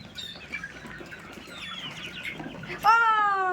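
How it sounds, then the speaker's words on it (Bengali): Chickens rustle and flap nearby, then one bird breaks into a loud, sustained squawk near the end. "দেখো আমার মুরগিগুলো কত আমাকে চিনে গেছে"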